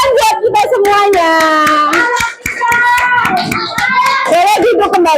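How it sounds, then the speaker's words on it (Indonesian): Children in a classroom clapping their hands in quick, sharp claps, mixed with loud kids' voices chanting and shouting close by. "Tepuk tangan buat kita semuanya"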